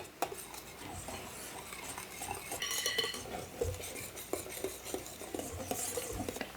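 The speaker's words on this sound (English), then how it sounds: "just very gently whisk in your egg white" A whisk gently folds egg white into eggnog in a bowl, giving a steady close-up swish with frequent light metallic clinks and taps throughout, and no talking.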